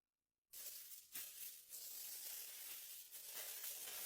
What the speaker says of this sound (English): Wrap the potato chunks in bacon. It needs to be grilled over charcoal again.